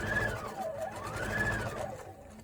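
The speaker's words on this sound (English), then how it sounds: "You're going to sew right over it, and that'll lock the seam in for you." A sewing machine stitches quilt seams in a steady, continuous run with a rising and falling motor whine, close and alone with no talking.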